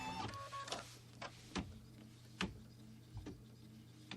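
An embroidery machine stitching a tack-down line on fabric, a steady mechanical hum with a series of sharp needle-strike ticks at irregular spacing, close but quiet, no voices.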